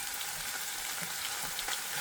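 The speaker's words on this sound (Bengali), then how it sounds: "মশলা আরও ভাজবো" Turmeric and spices with a little chopped onion fry in a pan for a crab and taro-stolon curry, a steady, close, dense sizzle with faint stirring scrapes and no talk.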